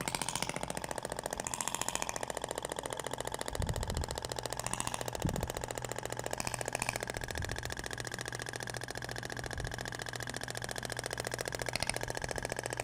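A Thork device fitted with a stainless steel tip, used in place of a polyacetal one, runs continuously and produces a fast, rattling mechanical buzz. A few dull thumps and knocks come through beneath it.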